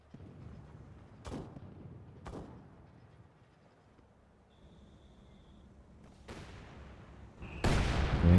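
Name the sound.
heavy HE shell barrages in a video game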